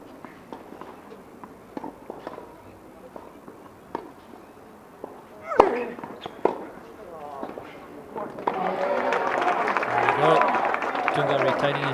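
A crowd on the centre court of an ITF men's tennis tournament in Gaborone cheers its local player. Scattered claps and calls build into a louder, sustained roar near the end, with a commentator speaking over it.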